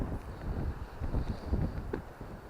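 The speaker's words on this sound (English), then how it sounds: "A very strong westerly wind today," Strong westerly wind buffets the microphone outdoors in a steady, rough rumble with gusty swells, loud and continuous throughout.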